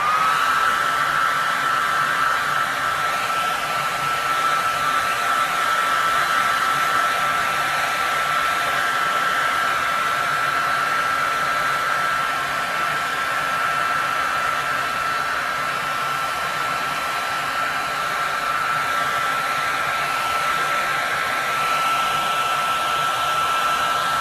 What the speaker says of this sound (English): I'm going to go ahead and I'm going to use a hair dryer on it to speed up the drying of the paint